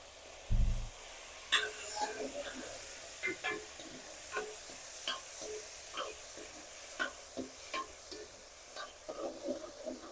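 Ginger garlic paste and peas fry in oil for restaurant-style degi matar masala, producing a soft hiss with scattered spatters and stirring scrapes, plus a low thump at the start.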